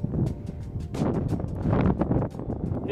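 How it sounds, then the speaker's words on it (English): Strong wind buffets the microphone in high sand dunes during a rain-soaked sand storm, a loud continuous roar with gusty surges and rustling throughout and no voices. "It's raining, still super windy."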